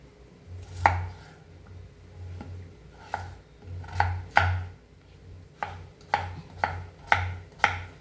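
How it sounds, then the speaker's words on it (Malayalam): A knife chops potatoes on a board for a Kerala-style beef roast, giving about a dozen crisp, close knocks. The cuts come in an uneven but steady rhythm, with no talking. "അപ്പോൾ അതും കൂടി നമുക്കൊന്ന് കട്ട് ചെയ്തിട്ടെടുക്കാം"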